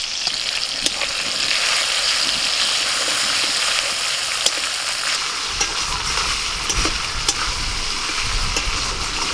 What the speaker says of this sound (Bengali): টমেটোটা একটু ভেজে নিয়ে আদা দিচ্ছি।